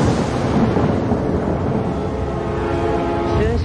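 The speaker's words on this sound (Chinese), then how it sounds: "只是凑巧撞上打雷天而已" Thunder in a Chinese martial arts film, a loud, steady, low rumble that rolls on without a break for several seconds, with a faint rising tone near the end.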